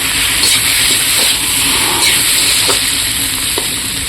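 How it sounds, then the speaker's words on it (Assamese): Pointed gourd curry sizzles steadily in a hot pan while garam masala is stirred through it, a constant frying hiss with a few soft scraping strokes of the spoon and no talking. "এতিয়া অকণমান গৰম মছলা ছটিয়াই দি এইখিনি ভালকৈ মিক্স কৰি ল'ম।"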